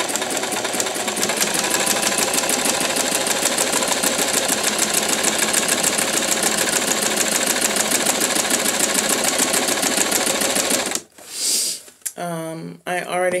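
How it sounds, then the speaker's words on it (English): A sewing machine stitches ribbon held by hand, running steadily and loud for about eleven seconds with a fast mechanical patter, then stopping abruptly before a few brief clicks and handling noises. "I'm just going to go ahead and hold the ribbon while I sew"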